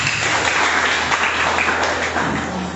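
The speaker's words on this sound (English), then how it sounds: "Please, may you give yourself a round of applause." Sustained applause from a school debate audience, a dense steady wash of many hands clapping at even loudness throughout, with no talking over it.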